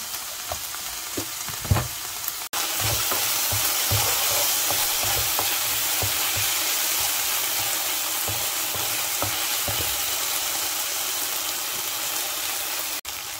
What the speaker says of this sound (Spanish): Ahora echamos aquí la cebolla y los pimientos.